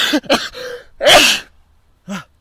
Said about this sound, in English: your sneezes just come out of nowhere